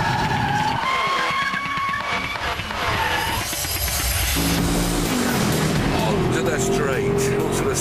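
Tyres of a Lexus IS-F skidding as the rear slides out in oversteer: loud, sustained screeching squeal over a revving engine, close and continuous throughout, with a voice over it.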